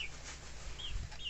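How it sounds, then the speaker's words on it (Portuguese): Faint high peeping from young chicks on a rural farm, a few short calls over a low, steady background. "Os pintinhos tá aqui, ó."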